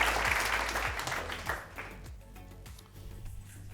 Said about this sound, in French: Des applaudissements également pour nos mannequins.